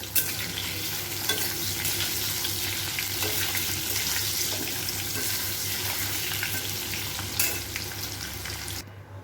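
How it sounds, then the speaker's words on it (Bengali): Potatoes seasoned with salt and turmeric frying in a pan, a loud steady sizzle with scraping stirs throughout, continuous until an abrupt stop at the end. "এখন এটাকে ভাজা ভাজা করবো"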